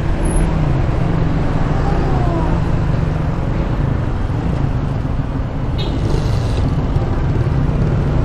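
Steady roadway traffic rumble from cars and larger vehicles surrounds a rider on a Honda ADV 160 scooter in Marilao, Bulacan, a continuous loud wash of engines and tire noise with no talk.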